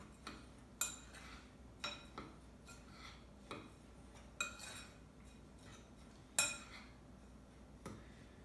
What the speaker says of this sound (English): And mix all 3 ingredients together.